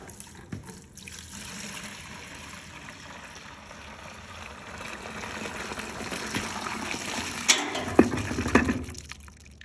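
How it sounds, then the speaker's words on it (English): Old fuel and debris pour out of the tank of a 1961 Dodge Power Wagon, a steady close splashing and trickling stream that grows heavier with sloshing spurts near the end, no talking. "So I'm just gonna dump this out, see what it looks like."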